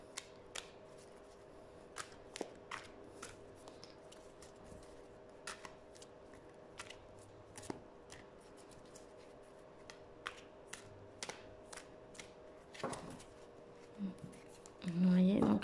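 A large oversized deck of oracle cards being shuffled by hand, giving a string of soft, scattered riffling snaps and flicks, close and fairly quiet, ending with a louder rustle.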